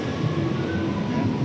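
An MRT train at Mandaluyong station on EDSA rumbles past with a steady mechanical drone and faint wheel squeal, moderately loud and continuous against city background.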